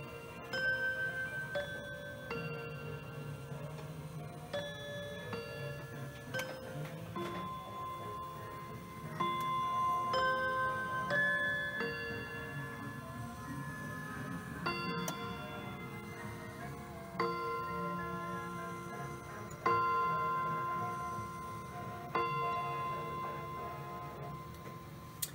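A Telechron electric clock ticks quietly and evenly in a still room, while its Westminster chimes ring out in clear, bell-like tones at intervals. The chimes overlap and fade over about twenty-five seconds.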